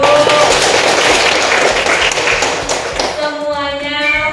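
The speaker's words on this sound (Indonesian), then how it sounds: "Kita masih tepuk tangan dulu." A classroom or seminar audience claps in a dense burst that fades toward the end, where a clear tone rings out alone.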